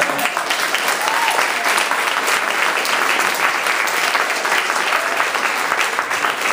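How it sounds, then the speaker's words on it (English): An audience claps after a stand-up comedy set, the applause loud, close and sustained for several seconds, thick and even with no pauses. "One more round of applause for Eli."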